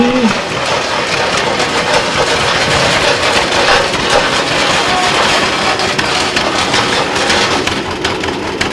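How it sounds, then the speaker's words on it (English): A 1940 John Deere Model B tractor engine chugs and rattles steadily and loudly at close range at a harvest festival, with a rough, low throb and a faint voice briefly underneath. "next we have Steve Cohn on his 1940 John Deere Model B"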